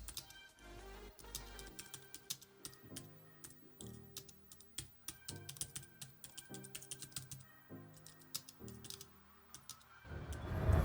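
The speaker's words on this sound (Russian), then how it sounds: "Кнопки на нем нажимаются в меру мягко и без характерных щелчков." Typing on a Bluetooth keyboard with touchpad and backlight attached to a Xiaomi Pad 5, keys soft with slight play: a steady run of close, light tapping keystrokes in irregular rhythm, with no talking.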